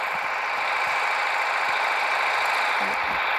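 A tractor engine in Farming Simulator 2014 drones steadily at a constant, moderately loud level, alone and without variation.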